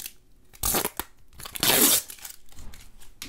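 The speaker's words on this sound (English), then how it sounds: "let's go ahead and peel off the inner side here" A protective film is peeled off the inner side of a Ringke Lime Glow case for an iPhone 14 Pro Max, giving two close, crackling tearing bursts, the second longer and louder, with quieter crinkling between and after.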